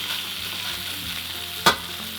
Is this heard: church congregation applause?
no